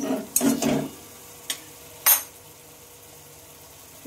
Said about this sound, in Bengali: সাইড থেকে কিন্তু মশলা থেকে তেল ছেড়ে দিচ্ছে, তার মানে এটা হালকা হালকা ভাবে কষানো হচ্ছে